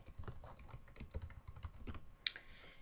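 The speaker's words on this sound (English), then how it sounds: "Let's just go ahead and type in" Rapid keystrokes clatter on a computer keyboard as a name is entered, close and steady, with no voices.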